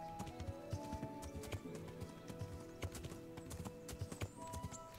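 A horse gallops in Kingdom Come Deliverance, its hooves drumming in a quick, uneven, continuous clatter that stays fairly faint over a low background for several seconds, with no talking.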